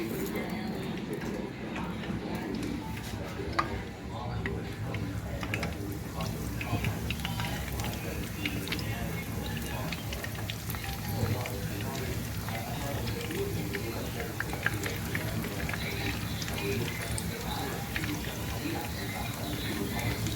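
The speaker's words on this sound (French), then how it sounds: "elle va les mettre dans l'huile" Corn-flake-breaded chicken drumsticks bubble and crackle continuously in hot oil, a steady frying patter running beneath a talking voice.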